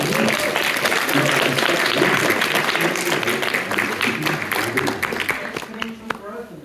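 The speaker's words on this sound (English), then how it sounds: "the students start clapping and cheering" A classroom of students bursts into sustained applause and cheering that fills the room loudly from the start, then thins out into scattered claps and voices toward the end.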